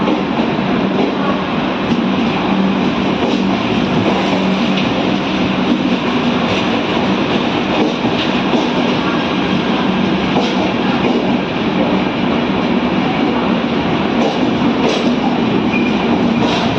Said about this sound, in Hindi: पता है LHB की सबसे खास बात क्या होती है? वो होती है इसकी ट्रैक साउंड।